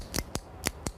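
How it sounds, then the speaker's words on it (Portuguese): A pen clicks four times in two quick pairs, each click crisp, sharp and close, with quiet gaps between them. "o clique de uma caneta"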